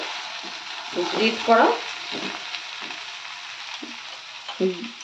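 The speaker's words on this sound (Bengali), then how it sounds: "চেরা কাঁচা লঙ্কা দুটো এভাবে দিয়ে দেব, দিয়ে এবারে নাড়তে হবে" Two slit green chilies frying in a pan for a Bengali sweet pumpkin dish, with a steady soft sizzle and several close stirring scrapes, alongside brief bits of talk.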